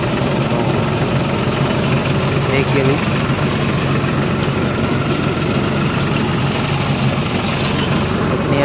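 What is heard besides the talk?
tractor engine running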